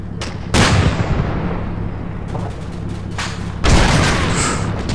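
Combat Mission Market Garden wargame battle with loud, heavy booming gunfire and artillery blasts rolling continuously, sharp strong onsets early and again near the end, no talk.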